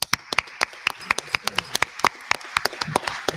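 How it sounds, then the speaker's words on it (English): Sparse applause at a school board work session, a small group clapping in uneven, separate claps for a few seconds, fairly close and moderately loud with no talking over it. "give a round of applause"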